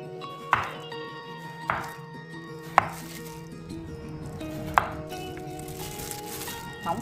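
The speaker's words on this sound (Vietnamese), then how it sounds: "và mình cắt mỏng mỏng" A knife slicing peeled bottle gourd into thin pieces about 1 mm thick, producing a steady series of sharp chopping thunks on a board, roughly one every second or two, close and clear.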